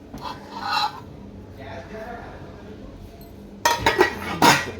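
Thick steel cooking pots with copper bottoms and loose-fitting lids clink and clatter together near the end in a quick burst of sharp metallic knocks, after a quieter stretch of faint handling noise and soft voices.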